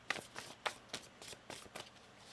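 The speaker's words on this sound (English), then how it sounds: "One more shuffle here." Tarot cards riffle and shuffle in a quiet room, a series of soft, brisk papery flutters that repeat about every half second, close up and faint.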